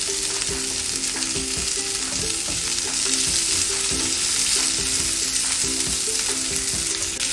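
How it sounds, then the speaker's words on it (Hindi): Capsicum and chopped onions are stir-fried in a pan for restaurant-style paneer chilli, a loud, continuous sizzle overlaid with regular scraping and clicking from a stirring spoon. "इसको हल्का सा हम भूनेंगे, ज़्यादा नहीं भूनना है। और अभी इसमें हम कैप्सिकम को भी ऐड कर देंगे।"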